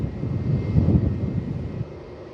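A Boeing 787-9 airliner landing on runway 16 at Melbourne Airport gives off a deep, steady engine roar, fairly loud, that drops away abruptly near the end.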